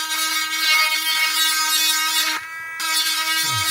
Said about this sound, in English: I'm gonna get the sander and just go around it and go like this.